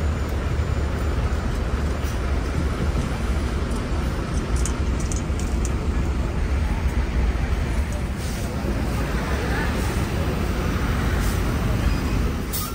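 An aging Medal Sekarwangi bus idles in traffic at the Kampung Rambutan terminal exit in Jakarta, a steady loud engine drone and road noise throughout, with faint clinks and a voice talking over it.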